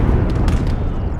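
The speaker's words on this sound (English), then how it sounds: "a lovely explosion. And we destroyed that tank" A tank blows up in the World War II strategy game Gates of Hell, a continuous loud, dense low rumble with a brief brighter burst midway, filling the whole moment without pause.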